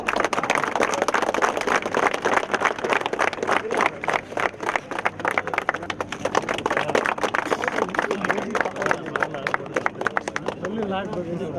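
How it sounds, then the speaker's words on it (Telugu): A large crowd at an occupational safety and health training programme for the prawn processing industry claps loudly and rapidly for several seconds, in a dense, close burst of applause that thins slightly toward the end. "ఇంకోసారి గట్టిగా చప్పట్లు కొట్టండి."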